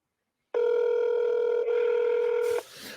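A telephone tone rings out as one loud, steady buzz of about two seconds with a brief dip midway, then cuts off into a faint, noisy tail, with no one picking up.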